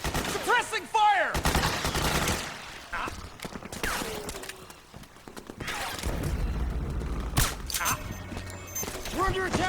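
Gunfire in Metal Gear Solid 4, bursts of shots and loud impacts amid a chaotic battle with horse neighs and hoofbeats, shouting voices throughout.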